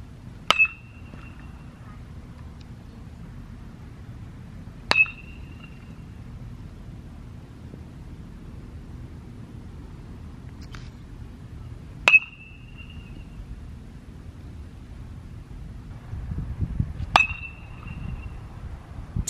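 Several 2021 baseball bats hit balls during batting practice, each strike a sharp metallic ping with a brief ringing tail. Four hits come spaced several seconds apart over quiet background noise.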